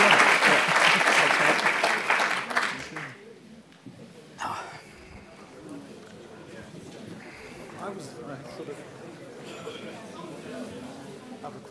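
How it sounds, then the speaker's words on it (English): An audience applauds loudly after a public lecture on how the Earth differs, the clapping dense for about three seconds and then fading into scattered murmurs and quiet talk in the hall. "So one last round of applause"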